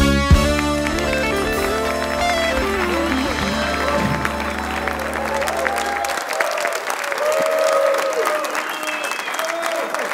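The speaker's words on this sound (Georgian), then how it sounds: "აპლოდისმენტები." A studio audience on a late-night talk show applauds steadily, with warm music playing at the start before the sustained clapping carries on alone.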